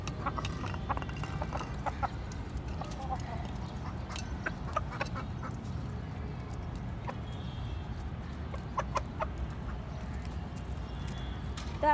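Ducks quack and chickens cluck in a backyard flock of desi and tiger hens, the calls scattered and fairly close over a steady low rumble of outdoor background noise.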